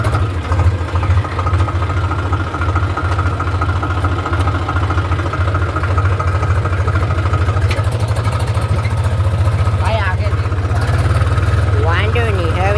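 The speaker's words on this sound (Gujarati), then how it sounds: "ચાલો ટ્રેક્ટરને શેલ મારી દઉં." A farm tractor's diesel engine runs steadily at low pitch throughout, loud and close with a constant drone, while people talk over it.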